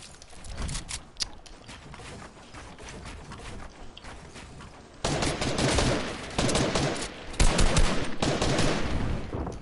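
Rapid gunfire in an online duos shooter match, bursts of automatic shots crackling in clusters that grow louder and denser midway, with sparse sharper single cracks near the end.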